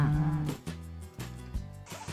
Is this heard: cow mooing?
yes